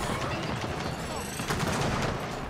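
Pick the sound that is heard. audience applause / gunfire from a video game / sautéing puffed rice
gunfire from a video game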